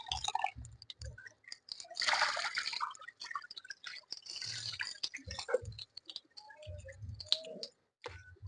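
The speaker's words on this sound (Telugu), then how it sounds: "దీన్ని శుభ్రంగా ఇట్లా ఐదారు సార్లు శుభ్రంగా కడుక్కోవాలి" Spinach being washed by hand in water, with irregular splashes, drips and wet clicks coming in bursts and pauses, close and fairly quiet, with no talk.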